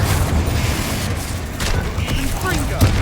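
Confringo, a fiery explosive spell in Hogwarts Legacy, set off as a series of booming magical blasts and bursts, layered with game effects and sitting over a low rumbling bed for the whole three seconds.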